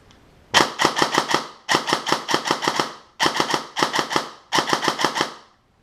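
An airsoft rifle firing full auto, rapid bursts of sharp mechanical clicking shots, five quick volleys of several rounds each, close and crisp with brief pauses between.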